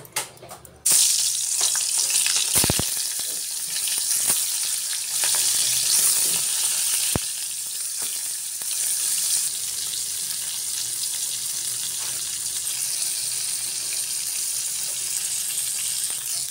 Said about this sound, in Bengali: কড়াইতে তেল দিয়ে দিলাম, এখন মাছটি ভেজে নেব।